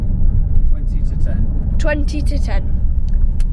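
A car drives on the way home from a Doncaster Rovers match, heard from inside as a steady low road rumble, while people talk over it.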